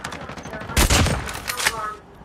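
Gunfire in Call of Duty Mobile on iPhone, a burst of a few sharp game shots clustered mid-clip over a background of game sound, with faint voice present.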